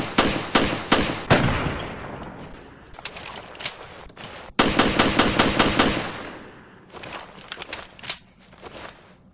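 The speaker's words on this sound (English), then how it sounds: "Jessica's G18 fires slower than the regular G18, but reloads much faster" A G18 pistol in Resident Evil: Revelations fires in rapid automatic bursts, loud and close, with short pauses between strings of sharp cracking shots.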